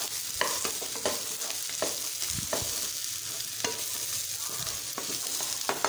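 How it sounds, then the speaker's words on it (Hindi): Finely chopped carrots are stirred into a fenugreek sabzi in a pan, with a spoon scraping and clinking in short irregular strokes over a soft, continuous sizzle. "अब हम इसमें गाजर डाल देंगे, जो हमने बारीक काट के रखी है। तो अच्छे से मिलाना है हमें इस तरीके से।"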